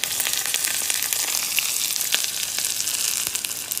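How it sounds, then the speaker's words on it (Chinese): Hot oil poured over chilies, Sichuan peppercorns and green prickly ash sizzles fiercely, a dense, close, steady crackling hiss peppered with bright pops, with no voices. "辣椒和花椒、麻椒上面泼一点油。"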